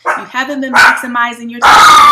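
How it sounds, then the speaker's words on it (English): A dog barks and yips loudly, close by, in several sharp bursts that interrupt and overlap someone speaking, ending in a longer bark. "Oh, sorry about my dog."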